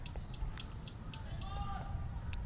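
A Zontes 150X motorcycle alarm gives short high-pitched electronic beeps three times in quick succession over low engine rumble and background noise, followed by a brief chirp.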